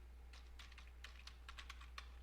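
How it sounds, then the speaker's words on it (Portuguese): Typing on a computer keyboard while a title is entered in a spreadsheet: a run of quick, light key clicks in uneven bursts, close and fairly quiet over a steady low hum. "Vou digitar o título,"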